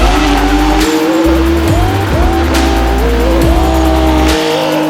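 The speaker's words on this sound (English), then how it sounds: "This is my 1995 BMW 325 IS. It has 189 horsepower to the crank when it was brand new." A 1995 BMW 325is with 208,000 miles is driven hard, its engine loud and revving up and down while tires squeal repeatedly in close, sustained bursts.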